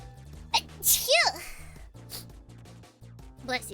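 A single sharp sneeze bursts out close by during model kit assembly, a quick inhale then a loud explosive burst, with a low hum and light background sounds around it.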